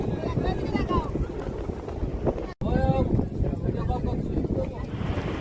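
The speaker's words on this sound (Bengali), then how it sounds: "এত হাওয়া দিচ্ছে" Strong seaside wind at Bakkhali beach buffets the microphone in a continuous roaring rumble, with a brief dropout midway and voices faintly mixed in.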